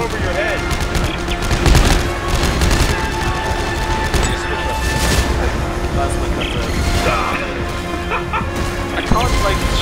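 Gunfire and clattering combat sounds from the sci-fi shooter game Dead Space 3, a steady busy mix of shots and impacts running throughout, with players talking over it.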